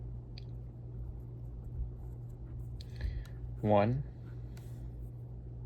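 A marker squeaks and scratches briefly across the plastic face of a 2x2 mirror cube, one short squeaky stroke standing out over a steady low hum while a person speaks a word.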